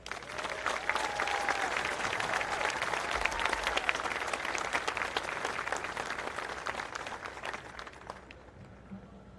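Sustained audience applause welcomes Governor Maura Healey at a Patriots' Day Battle Green rededication in Lexington, a broad steady wash of clapping lasting several seconds before tapering off near the end.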